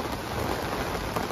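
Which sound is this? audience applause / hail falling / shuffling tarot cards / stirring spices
hail falling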